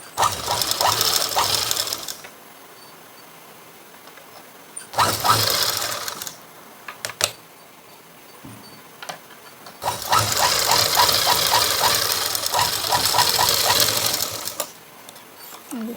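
A sewing machine stitching blouse lining runs in three separate bursts of rapid, rattling mechanical clatter. Short quiet pauses fall between the bursts, and the machine is close by with no voices.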